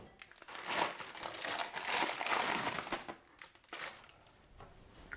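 Baking paper crinkles and rustles in several loud bursts, with quieter pauses between, as air-fryer-baked bread is lifted from its tin and the paper pulled off and crumpled nearby.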